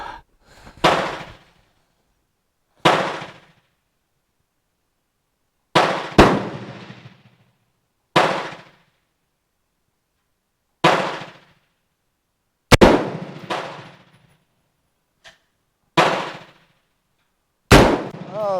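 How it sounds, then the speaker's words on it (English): Colt M4 rifle, a police trade-in, fired on a range: about eight loud, sharp single shots spaced a few seconds apart, each with a short echoing tail, and no talk over them. "Back on fire."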